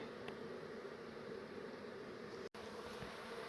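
Bees buzzing steadily during the relocation of a beehive from a bedroom wall in Narre Warren, a dense continuous hum close by with no talking.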